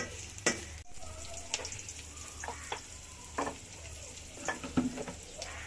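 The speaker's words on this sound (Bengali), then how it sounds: "এখন তো ছেঁচে দেই ছেঁচা রসুন দিয়ে দিলাম" Crushed garlic frying in a pan for dal, a faint steady sizzle with intermittent spatula scrapes and clinks, close but quiet.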